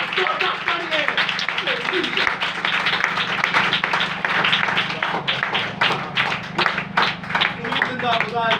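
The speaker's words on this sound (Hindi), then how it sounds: "एक बार जोरदार तालियां" A church congregation applauds loudly in a dense, sustained burst of many hands with some cheering voices, filling a worship hall after a call for praise.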